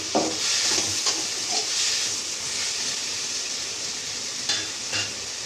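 Tomatoes cook in masala for an Odisha-style egg curry, giving a steady close sizzle and hiss of frying with a few light stirring scrapes in the pan, and no talking.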